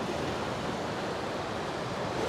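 Sea waves wash steadily onto an eroded beach in Zambales where a river meets the sea, a continuous broadband roar of surf with no distinct breaks, moderately loud and with no voices.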